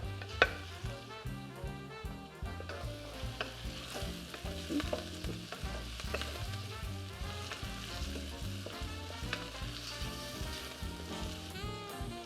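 King prawns, cut in half, hit a hot pan for fried rice and sizzle steadily, with a busy stir-fry crackle and scraping stirs running close and loud throughout, no voices.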